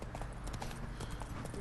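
Horse hooves clip-clop steadily along a path in The Witcher 3: Wild Hunt, a brisk even rhythm of close hoofbeats over a low ambient background.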